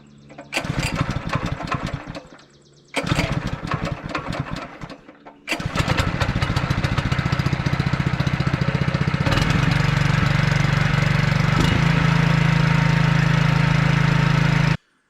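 A Honda engine fitted to a Permagreen Magnum cranks twice in short bursts, then catches and settles into a loud, steady idle close by, and the pitch drops slightly late in the clip.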